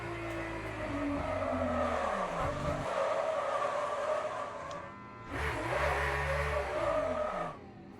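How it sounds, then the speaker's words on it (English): Hypercar in the Le Mans Ultimate racing game sliding into a slow crash, tyres skidding and squealing over engine drone, with a brief lull before a second loud skid near the end. "That might be the slowest crash I have ever had"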